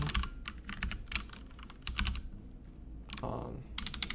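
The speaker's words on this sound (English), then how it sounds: "Sorry for the loud keyboard. Mic picks up everything." Rapid, clacky typing on a loud keyboard close to the mic, coming in uneven bursts of keystrokes with short pauses between them.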